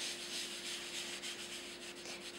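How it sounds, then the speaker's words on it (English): Steady, close rubbing of a Kleenex over graphite on paper, a continuous soft scrubbing hiss without pause and no talking. "take a Kleenex or even a cotton ball and rub it on"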